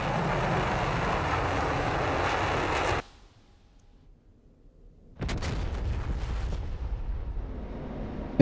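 A JDAM bomb striking its target from an F-16 in DCS World, a loud sustained roar that cuts to near silence, then a rumbling blast wash returns, heard alone with no talk.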